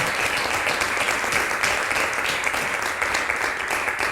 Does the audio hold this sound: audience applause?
yes